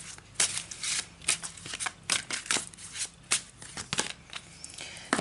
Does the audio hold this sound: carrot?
no